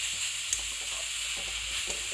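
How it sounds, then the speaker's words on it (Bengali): Cabbage with turmeric and spices sizzles and fries in a pan, a steady broadband hiss with a few soft stirring scrapes, close and continuous with no talk. "সব মশলাগুলোর সাথে বাঁধাকপিটাকে কষিয়ে নিতে হবে"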